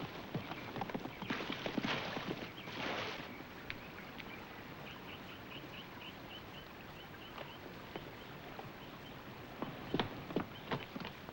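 A horse's hooves clip-clopping on hard ground, fading and receding into the distance, with outdoor ambience and a few scattered steps afterward.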